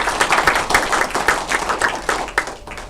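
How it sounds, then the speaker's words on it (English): A small seminar audience claps for the speakers, a brisk, even patter of hands lasting a few seconds, fairly close and loud with no talking. "I think they deserve a round of applause."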